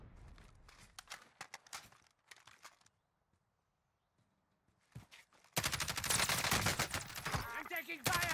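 Gunfire from a battle royale video game: the first half is quiet and sparse, then a loud, dense burst of rapid shots and action sounds takes over, with game voice callouts mixed in.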